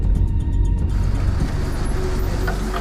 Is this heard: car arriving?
yes